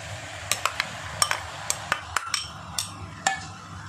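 Tomatoes are tipped into a cooking pan with a metal utensil. About a dozen sharp, irregular clinks and taps sound up close over a low background hum, with no voices.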